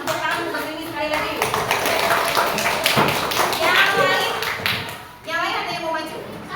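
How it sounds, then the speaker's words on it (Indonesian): Children in a classroom clap their hands together in a brief burst of rapid, close taps, with a teacher and kids talking over and around the clapping. "Coba tepuk tangan Mbak Silmi sekali lagi."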